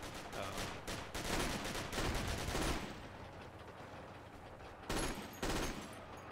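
Rapid MG34 machine gun bursts in the Forgotten Hope war game, dense gunfire for the first few seconds, then thinner background shooting with two more sharp bursts near the end.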